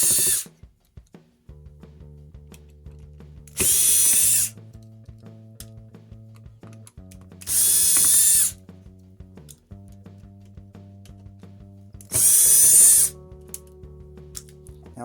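A power drill backing screws out of a projection TV circuit board box, three loud bursts of whirring about four seconds apart, separated by quieter handling clicks and faint background hum.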